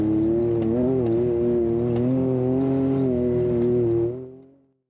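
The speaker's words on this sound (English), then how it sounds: "Hear him chopping the throttle just a little bit." Off-road race car in the NORRA Baja rally, its engine droning steadily close by with slight throttle chops and wavering pitch, then fading out at the end.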